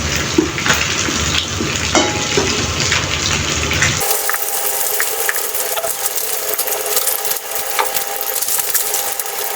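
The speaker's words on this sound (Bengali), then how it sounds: "এখন আরেক দিকটা ভালোভাবে ভেজে নেব" Bata fish sizzle in hot oil in a pan, a continuous dense crackle and hiss that thins toward a brighter, lighter sputter partway through.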